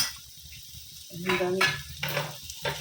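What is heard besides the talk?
spices with onion and garlic frying in a pan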